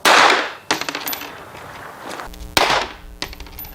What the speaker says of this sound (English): So watch this explosion here.